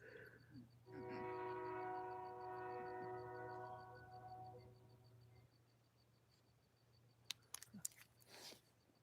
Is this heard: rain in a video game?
no